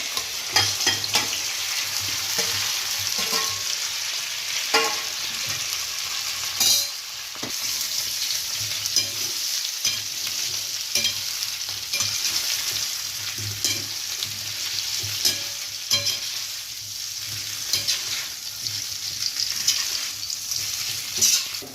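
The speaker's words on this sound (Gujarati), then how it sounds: "આ રીતે આપણે એને વઘારમાં આ રીતે ફેરવતું જવાનું એટલે સરસ કડક થઈ જશે" Steamed bottle gourd muthiya being stir-fried in an oil tempering of curry leaves and asafoetida, a loud continuous sizzle with repeated scraping stirs close by.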